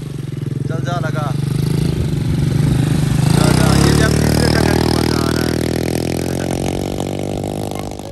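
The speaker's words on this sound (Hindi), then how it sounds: "उमर ने बाइक के 5 चक्कर लगा लिए हैं।" A motorbike rides laps in a Pakistani village, its engine droning close and loud, swelling as it revs up midway and then holding steady while people talk over it.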